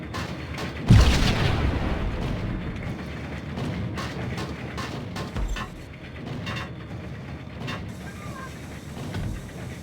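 A grenade blast in the Max Payne video game lands as one sharp, heavy boom early on, followed by a long rumbling tail with scattered mechanical clatter and debris.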